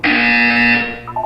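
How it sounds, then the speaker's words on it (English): A loud, steady electronic buzzer from the Portal 2 video game drones for about a second in a test chamber, then drops off with a short higher beep at the end. "When you hear the buzzer, look down at the floor."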